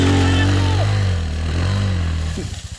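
A 250cc pit bike engine revs loudly and close on a forest trail, a steady throaty drone with a slight rise and fall, dying into uneven sputters at the end.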